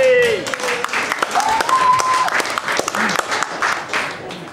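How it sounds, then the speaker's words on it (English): Audience applause for a singer, Emma, after a Grease number at Club Belle in Hemsby, a steady wash of clapping lasting several seconds, with a host talking and some whistles above it. "Round of applause for Emma."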